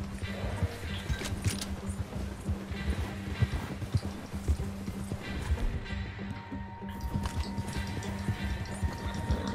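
Horse hooves clopping steadily in Red Dead Redemption II, a dense run of hoof beats mixed with game sounds and someone talking over them throughout.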